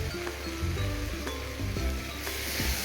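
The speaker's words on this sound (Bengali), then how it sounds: "বন্ধুরা, আলু আর মশলাটাকে ভালো করে কষে নেব।" Potatoes with spices, Kashmiri chili powder and salt sizzle and fry in a pan, a continuous close crackle with small irregular pops and occasional stirring scrapes, no voice.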